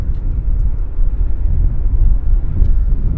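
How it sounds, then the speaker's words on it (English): Air Canada airliner taxiing at Vancouver International Airport, a steady low rumbling engine drone that holds even and unbroken, heard from a distance with some wind noise. "we've got the Air Canada taxiing right here"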